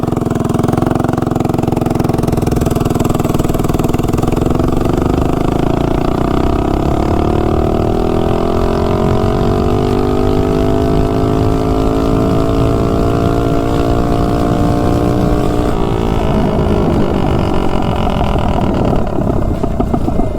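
A Honda CRF minibike fitted with a VM22 carburetor rides down a street, its engine droning loudly and steadily as the pitch climbs through acceleration, then eases slightly near the end.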